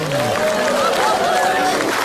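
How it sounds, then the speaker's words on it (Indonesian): Studio audience on an Indonesian comedy talk show applauds loudly and continuously, with crowd cheering and voices mixed into the dense clapping throughout. "Tepuk tangan untuk Calontong."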